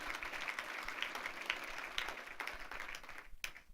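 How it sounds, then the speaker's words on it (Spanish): Church congregation clapping together in a sustained burst of applause, a dense, steady patter of many hands filling the room from start to finish. "Dele un aplauso al Rey de la Gloria conmigo."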